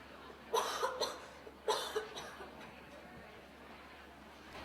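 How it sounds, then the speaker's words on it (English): Several coughs in quick succession, fairly close and moderately loud, in two short clusters, followed by a quiet pause. "Cover your cough."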